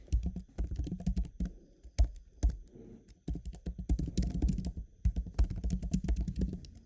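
Fingers typing on a computer keyboard while writing C code, irregular bursts of crisp clicks and key thuds with short pauses, close and clear, no talking.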